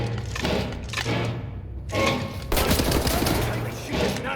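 Weapons fire in Wolfenstein The New Order, dense loud bursts of shots in overlapping volleys with brief gaps, the last stretch a sustained rattling barrage.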